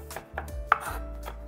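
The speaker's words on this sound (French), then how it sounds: "la technique pour hacher, c'est de mettre nos doigts sur le dessus du couteau" Quick, light taps of a knife chopping against a cutting board, several soft strikes in a fast irregular rhythm, close by.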